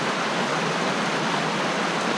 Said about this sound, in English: I am right up on the waterfall